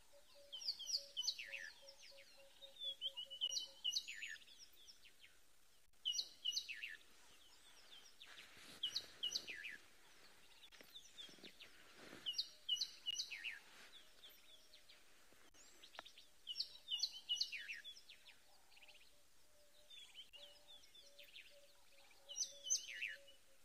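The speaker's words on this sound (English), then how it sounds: "there's so many birds calling. Have a listen and see how many birds you can hear." Many wild birds calling at sunrise on an African safari: varied chirps, whistles and clucking calls come in repeated bursts, fairly distant and faint over a quiet background.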